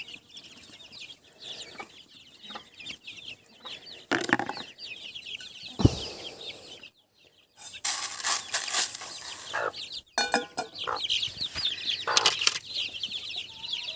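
Chicks and their mother hens in a coop, with soft clucking and cheeping mixed with bursts of wing flapping and rustling, some close and loud, with brief quiet gaps.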